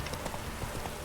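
The horse Roach galloping in The Witcher 3 video game, quick soft hoof clip-clops in a rapid uneven rhythm, faint and brief.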